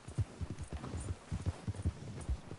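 Horse hooves in the video game Red Dead Redemption 2, soft low thudding clip-clop in a steady gait, fairly faint and close, with no talk over it.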